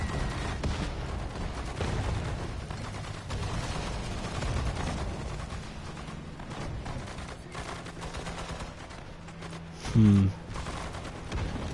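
Battle sounds from a Stuka dive bomber attack in the WWII strategy game Sudden Strike 4: steady rumbling gunfire and explosions throughout, with a sharp louder burst near the end and faint radio-style voice chatter underneath.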